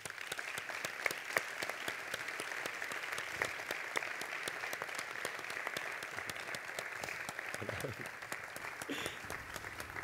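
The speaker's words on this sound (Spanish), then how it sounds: "Así que recibamos con un fuerte aplauso a su alcalde, Óscar Hernández." An auditorium audience applauds the mayor at a gala awards ceremony, a steady, dense wash of clapping that holds at even loudness for the whole stretch.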